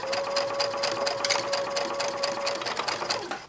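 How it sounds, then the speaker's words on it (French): A sewing machine stitches quilt fabric strips a few millimetres from the edge, a steady rapid mechanical whir with a constant hum, close and loud, winding down at the very end. "je vais coudre les épaisseurs à 7 mm du bord"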